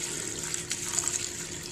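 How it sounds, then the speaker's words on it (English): Excess rice-washing water is poured out of a pot, giving a steady close splashing flow with slight gurgles. "Once the water begins to get clear, kind of like this right here, just pour out the excess water."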